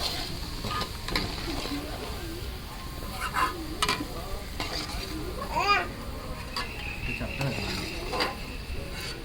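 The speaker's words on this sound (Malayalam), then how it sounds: "ഉരുളക്കിഴങ്ങ് നമ്മൾ ചെറുതായിട്ട് അത് മൂപ്പിച്ചെടുക്കുകയാണ്." Small potato pieces sizzling in hot oil in a pan for a Kuttanad-style duck dish, a steady hiss with scraping stirs and clinks from a utensil throughout.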